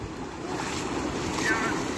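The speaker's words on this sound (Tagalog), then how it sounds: "Malakas yung ragasan ng tubig." Strong, rushing river water at a cast-net fishing spot makes a steady, dense roar with wind buffeting the microphone, continuous and close throughout.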